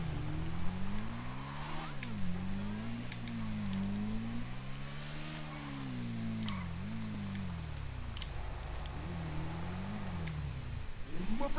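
A Lectro motorcycle engine in GTA 5 revs steadily throughout, its pitch rising and falling in repeated swells with a few sharp throttle blips, loud and close with no talk over it.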